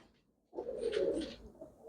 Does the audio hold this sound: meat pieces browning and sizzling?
no